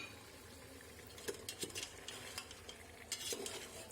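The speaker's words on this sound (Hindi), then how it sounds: "टमाटर ऐड करने के बाद इसको इस तरीके से मिक्स कीजिएगा" Tomatoes are stirred into beef in a pot for biryani, quiet scraping and clinking of a spoon against metal over a faint low sizzle, no talk.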